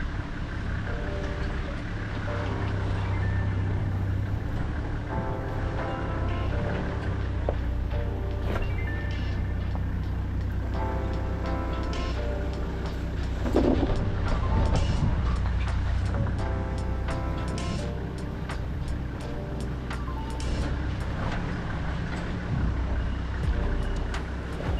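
A Toyota LandCruiser with automatic transmission crawls an offroad trail in low range first gear, its engine a steady low rumble with knocks and clunks from the suspension and body throughout.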